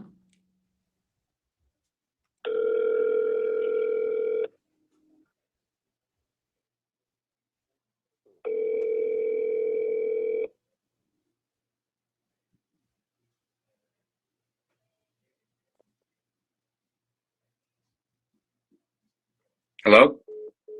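Telephone ringback tones from an outgoing call, two long steady rings separated by silence, then a short burst of sound near the end.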